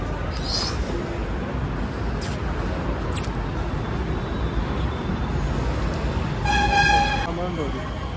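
A metro train pulls into a station in Pune under steady rumbling crowd noise and chatter, with a short horn-like tone sounding near the end.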